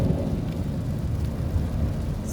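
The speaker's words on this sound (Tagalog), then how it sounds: "Lakas ng ulan." Heavy rain pours down during a flood in Dubai, a dense, continuous roar with deep low rumbling that suggests distant thunder, steady and loud with no voices.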